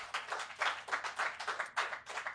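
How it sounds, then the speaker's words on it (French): Small live audience clapping at a sports podcast taping, a quiet, rather distant patter of hands in uneven bursts. "on peut applaudir l'anecdote de Patreon"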